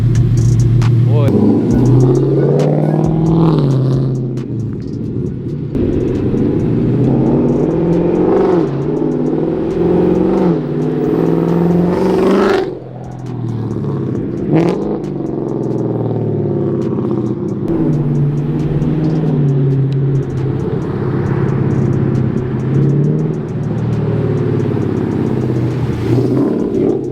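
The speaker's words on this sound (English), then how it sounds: "I'm gonna do some full throttle pulls on the car" A loud Ford Mustang engine with no catalytic converters and new mufflers revving hard at full throttle through a rumbling exhaust, rising and falling repeatedly, with someone talking over it.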